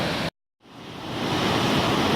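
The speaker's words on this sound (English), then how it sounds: "I just wanted to get on top of the waterfall as well." Glen Alpine Falls near South Lake Tahoe roars as a steady, broad wash of falling water; it cuts out briefly near the start, then swells back to a constant rush.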